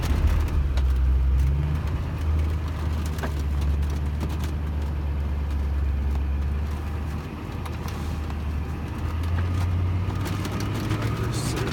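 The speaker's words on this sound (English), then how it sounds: "I'm driving a Hummer." A Hummer H1 Alpha driving, with a steady deep diesel drone and rumbling road noise heard from inside the cabin, the engine swelling and easing at moments, and people talk faintly over it.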